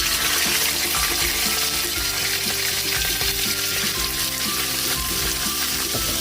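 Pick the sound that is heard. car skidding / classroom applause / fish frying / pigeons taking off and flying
fish frying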